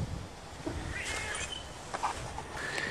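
A cat gives a couple of soft meows at moderate distance over a steady background hiss, near a Honda CB450 engine being set up for a go-kart.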